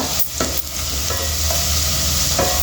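Onions with a pinch of turmeric fry in a pan with a loud, close, continuous sizzle, broken by a few scraping stirs and no voices.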